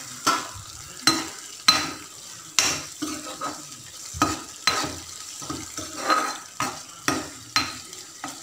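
A spoon stirs mushroom curry in a pot after ghee has gone in, giving regular rhythmic scrapes and soft clinks about once a second over a low sizzle, close and without speech.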